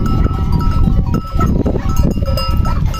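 Goats on a farm, one with an udder problem, bleating amid loud close-up shuffling and handling noise, with no voices.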